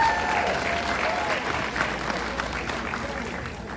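Audience members at a talk on smart goals give themselves a round of applause, a steady full burst of clapping that fades slightly toward the end, with no speech over it.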